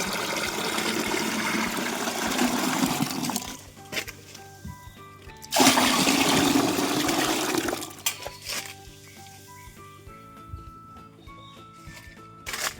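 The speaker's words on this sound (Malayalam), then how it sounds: "ഇരട്ടിക്ക് വെള്ളം ഒഴിച്ചു കൊടുക്കാൻ പോവാം." Water is poured into a mixture to dilute it to double its volume, as a homemade plant feed for a vegetable garden. Two loud gushing pours are heard, each lasting a few seconds, with quieter trickles between them and soft background music.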